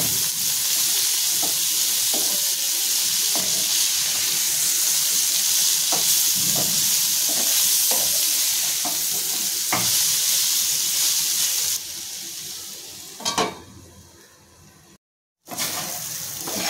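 Bitter gourd (karela) slices fry in a pan with a steady, close crackling sizzle, broken by scattered stirring clicks and a brief scrape and clatter as the slices are flipped near the end.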